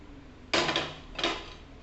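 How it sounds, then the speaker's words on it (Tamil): Cashews and raisins dropped into milk payasam in a pan: two short clattering scrapes of metal against the cookware, close and fairly quiet, with a brief gap between them. "முந்திரி திராட்சையை அதில் ஆட் பண்ணிக்கிறேன்."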